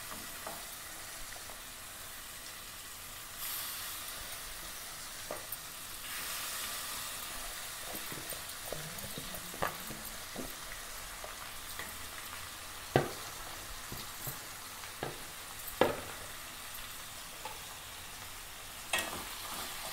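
Chicken pieces sizzle in a pan over onions already fried with ginger, a steady frying hiss broken by occasional sharp clicks and scrapes as the mixture is stirred, fairly quiet and close.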